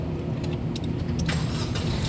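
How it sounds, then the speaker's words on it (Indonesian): A 2019 DFSK Glory 560 1.5 turbo automatic SUV starts via push button: a steady low engine rumble runs throughout at close range, with brief clicks and a faint rising whir from about halfway on, no talk. "coba kita nyalakan mobilnya ya"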